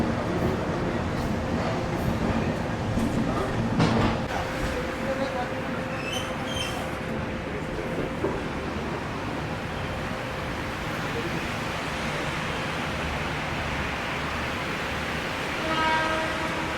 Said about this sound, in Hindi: अभी अपनी दुरंतो एक्सप्रेस निकल रही है मुंबई सेंट्रल से